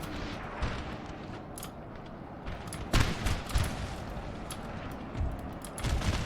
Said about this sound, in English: Ooh, their artillery's coming in heavy now.